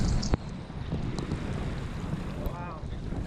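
A kayak is paddled on an ocean littered with plastic: continuous rushing water and wind buffeting the microphone, with a sharp knock near the start as the paddle strikes and a faint splash later, no talking.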